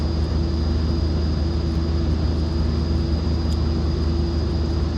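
A Pilatus PC-12 turboprop taxiing in the X-Plane 11 flight simulator gives a loud, steady engine drone with a constant high whine, unbroken and even, with no voices.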